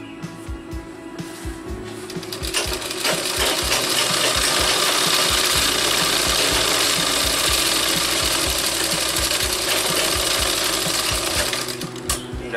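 A sewing machine runs a continuous double line of stitching on a kalidar salwar, starting softly and then holding a loud, steady mechanical whir with rapid needle ticking for about nine seconds before slowing near the end.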